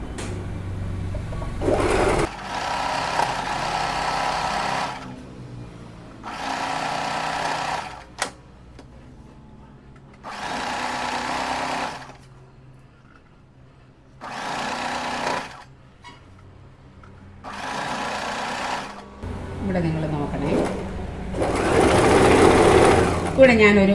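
A sewing machine stitches straight pants in several bursts of steady whirring, separated by pauses, close to the microphone, with a person talking during the breaks and over parts of the stitching.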